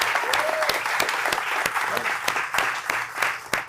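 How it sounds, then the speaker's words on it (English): A crowd claps at a political speech, dense and continuous with sharp individual claps standing out close by, and a voice briefly sounds over it. "the people in the crowd clapping"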